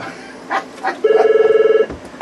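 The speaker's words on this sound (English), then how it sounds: "All right, the phone is ringing." A telephone rings in a radio station studio: one sustained electronic ring with a fast warbling pulse, loud and close, following a couple of brief softer sounds.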